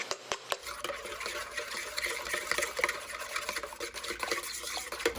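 Sourdough discard is stirred into blondie batter in a bowl, a continuous soft sticky scraping and swishing with sharp clinks of the utensil against the bowl at the start, close and fairly quiet with no talking.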